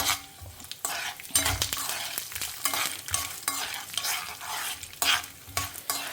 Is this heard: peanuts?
yes